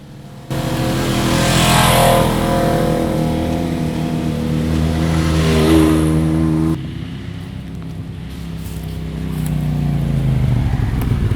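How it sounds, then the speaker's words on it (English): A Polaris 900 XP UTV engine drones steadily on an off-road trail in Canada, loud and close, then drops to a lower, rougher note partway through before building again, with no talk. "The Polaris 900 XP is still one of my favorite platforms, especially for the trail."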